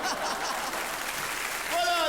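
Studio audience applause on a French television variety show, a broad steady wash of clapping that fills the clip, with a bright tonal sound rising near the end.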